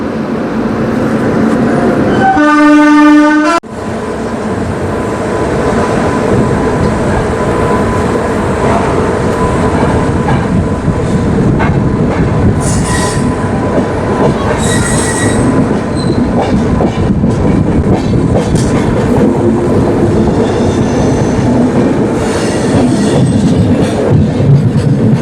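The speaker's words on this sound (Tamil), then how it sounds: "கிருஷ்ணராஜபுரம் ஸ்டேஷனுக்கு இப்போ நம்ம டிபார்ட் ஆக போகிறோம்" Uday Express passenger train pulling out of Krishnarajapuram station near Bengaluru: a brief close horn blast, then a steady loud rumble of rolling coaches with faint wheel squeals, no voices.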